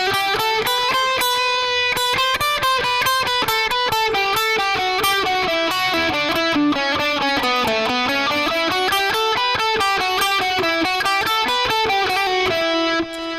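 Electric guitar plays an outro solo, a continuous run of fast picked notes and triplets climbing and descending through the scale, loud and sustained with a slightly driven tone and no talking.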